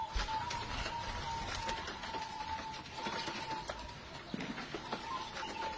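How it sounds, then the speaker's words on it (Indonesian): A perkutut zebra dove, a Megamendung cross, gives faint repeated coos in a steady rhythm against a quiet background hiss, with no voices. "Ini perkutut Megamendung, saya silangkan dengan Megamendung."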